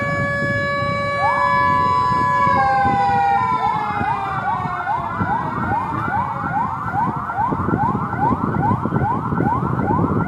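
Fire engine siren from a departing fire brigade crew in Makassar, a loud continuous wail that sweeps and rises in overlapping tones, joined by a second siren cycling in repeated upward whoops over steady traffic rumble.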